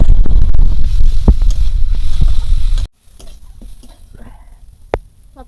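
Live mourala fish fry and get stirred in a pan, with a loud steady sizzle and scraping for about three seconds that then cuts to a quiet kitchen with a few faint clinks.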